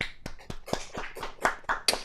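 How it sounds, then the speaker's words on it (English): A short burst of scattered hand clapping from a few people in an online meeting, uneven and fairly close, lasting about two seconds. "give a round of applause for our two presenters"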